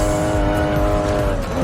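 A car drifts in a racing video game, holding a sustained, loud tire squeal over the engine drone for a moment.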